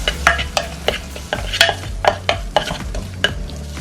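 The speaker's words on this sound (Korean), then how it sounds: "그 다음 표고버섯과 된장을 넣고 살짝만 더 볶아주세요." Shiitake mushrooms and doenjang are stir-fried in a pan, with a spatula scraping and stirring in quick repeated strokes over a soft, steady sizzle, close up.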